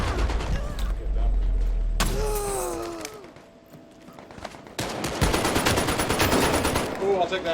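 Rapid bursts of automatic gunfire from a World War II shooter in virtual reality, loud and close, with rattling volleys broken by a brief lull and shuffling sounds.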